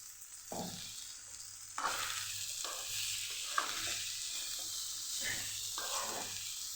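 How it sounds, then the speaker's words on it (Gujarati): Green beans and potatoes stir-fry in a pan with salt and spices. A steady close sizzle runs throughout, broken by repeated scraping stir strokes every second or so, with no talking. "હવે આપણે સરસ મિક્સ કરી દઈશું મસાલા સાથે ફણસીને પણ ફણસી બટેટા સરસ મિક્સ થઈ જાય"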